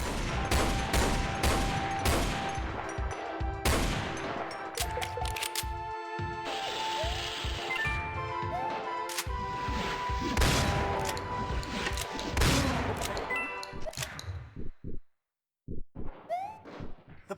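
Rapid bursts of bullet gunfire from the game Doom: The Golden Souls 2, with repeated sharp shots in quick succession over game music and effects, loud and close, fading near the end.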